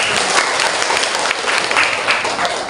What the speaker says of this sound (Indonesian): Aplaus dulu dong untuk